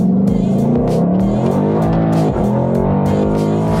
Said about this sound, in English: Once you get on an open road, you can turn it up, and let me tell you something, this Mustang has an incredible soundtrack.